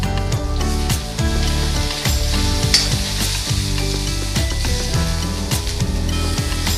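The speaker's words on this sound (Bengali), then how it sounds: "আমি বেগুন দিয়ে নিম পাতা ভেজে নিচ্ছি।" Neem leaves and eggplant pieces fry in hot oil, a loud steady sizzle with repeated scraping and stirring knocks from the spatula against the pan.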